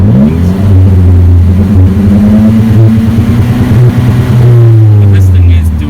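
Saab 9-3 engine with an aftermarket power box revving unsteadily around 3,000 RPM, failing to hold the revs, a loud, close, continuous drone that wavers in pitch.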